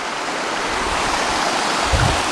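A waterfall in New Zealand rushes in a steady, full broadband roar with no break, close and loud throughout, with a slightly heavier low surge near the end and no voices.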